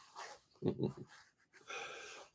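Dog named Squeenie snorting and breathing up close, short bursts of sniffs and snuffles with a couple of louder nasal snorts, faint and intermittent with quiet gaps between.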